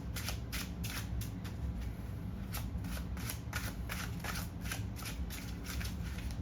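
Tarot cards being shuffled by hand for a clarifying draw, a steady run of soft riffling bursts in a quiet room, close and continuous with no talking.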